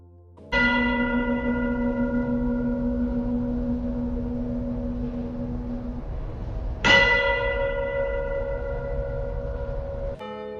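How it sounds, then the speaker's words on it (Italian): Church bells ring out in two resounding strikes, each leaving a long, humming tone that slowly fades, loud and close with no voices. "testando la frequenza del rintocco delle campane delle chiese"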